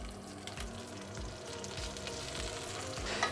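Steak and smashed unpeeled garlic cloves fry in a hot pan, giving a steady, close sizzle with crackling pops and occasional low stirring thumps throughout.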